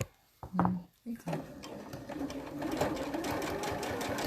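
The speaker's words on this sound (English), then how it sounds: "I'm going to stitch down the edge of the binding here." A domestic sewing machine stitches down the folded edge of a V-neckline binding, running steadily and close at hand after a short stop-start, with a brief voice heard over the opening.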